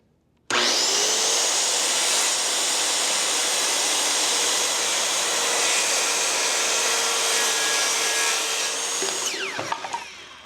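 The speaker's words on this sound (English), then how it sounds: "I'll hit the trigger to get it spun up and then cut through the material." A circular saw spins up sharply and cuts through wood, a loud sustained whine with rough cutting noise that holds for about nine seconds, then winds down to a stop.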